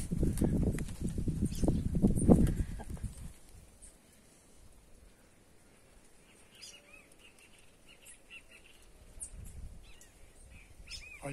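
Wild birds calling in the dry backcountry of northeastern Brazil, with faint chirps and whistles scattered across the quieter middle and later stretch, after a louder rustling, thumping start.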